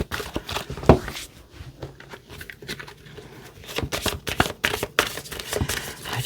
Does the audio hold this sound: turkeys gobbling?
no